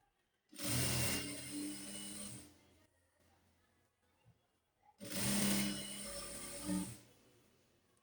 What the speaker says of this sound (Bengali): এখানে আমরা ডাবল সেলাই দিয়ে নেব,